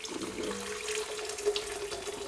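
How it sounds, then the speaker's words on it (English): Starchy water from boiled potatoes pours into a pan, a steady close-up trickling and splashing stream running evenly throughout. "So we're going to add some of that potato water."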